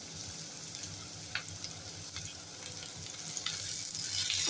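Potato pieces sautéing in a pan for a fasting-day dish, a soft steady sizzle with occasional spatula scrapes and clinks against the metal.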